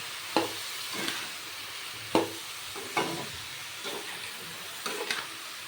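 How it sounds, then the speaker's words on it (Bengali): Chopped ash gourd frying in a pan, stirred with a spatula; sharp scraping stirs land every second or so over a soft background sizzle, close by and without speech. "সব চাল কুমড়ো ঢেলে দিয়েছি এবার কিছুক্ষণ নেড়ে চেড়ে চাল কুমড়োটাকেও ভেজে নেব"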